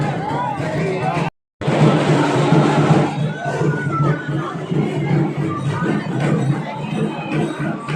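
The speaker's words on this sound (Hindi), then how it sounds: "मेन रोड पर आप भीड़ देख रहे होंगे, ख्वाजा के दीवाने चारों ओर फैले हुए हैं" Crowd of devotees on a main road in Surat during a dargah urs procession: a dense, loud hubbub of many voices with shouts, broken by a brief gap near the start.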